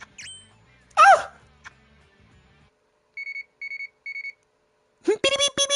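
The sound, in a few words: beeping message alert from video game Bleach Brave Souls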